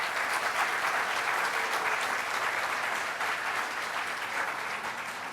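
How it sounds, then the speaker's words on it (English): Sustained applause from a large crowd, dense and steady clapping that fills the whole stretch, fading slightly toward the end. "huge round of applause, please"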